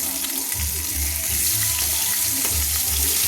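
Large katla fish steaks, cut from a 3 kg fish, frying in hot oil in a pan, giving a loud, steady, close sizzle with bubbling crackle throughout and no voices.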